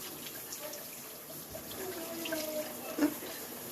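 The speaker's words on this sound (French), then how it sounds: "Là, je viens rincer." Water runs softly from a tap while someone rinses their face during a skincare routine, a faint steady trickle with small splashes toward the end.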